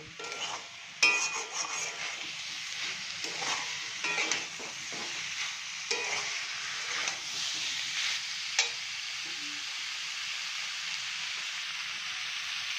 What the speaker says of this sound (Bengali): এবার আলু দিয়ে মশলাটা ভালো করে কষিয়ে নেব।